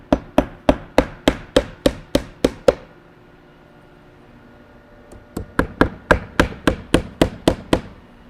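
A hammer drives nails to fasten vinyl siding panels, two close runs of about ten sharp, evenly spaced strikes each, separated by a pause of a couple of seconds, with no voices.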